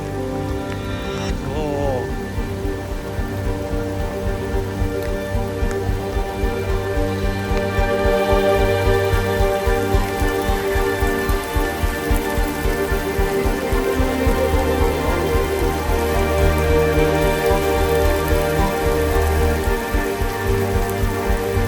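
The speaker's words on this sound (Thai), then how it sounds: "นี่คืออะไรฝนตก" Rain falling on an off-road trail in Thung Yai Naresuan, a dense steady patter of drops that grows heavier partway through, with a vehicle hum beneath and voices talking over it.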